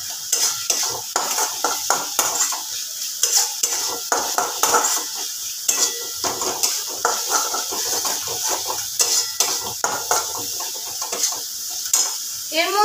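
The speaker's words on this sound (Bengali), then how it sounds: "এবার খুব ভালো করে কষতে থাকবো।" Mutton keema curry masala frying in a pan while a utensil stirs and scrapes it, producing a continuous close sizzle broken by frequent rhythmic metallic clinks of spoon on pan throughout, with no one speaking.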